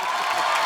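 Studio audience on a Hindi comedy talk show breaking into steady applause mixed with cheers and whoops, a dense, even wall of crowd noise lasting under a second with no pause.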